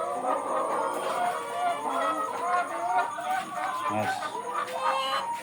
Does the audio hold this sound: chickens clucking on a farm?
yes